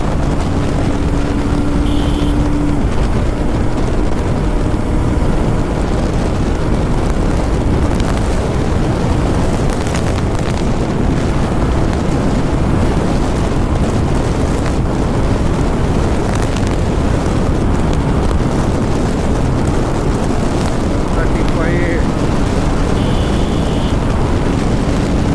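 A Bajaj Pulsar 220F motorcycle rides at speed. Loud, constant wind roar buffets the microphone and mostly buries the engine for the whole stretch, with no talking.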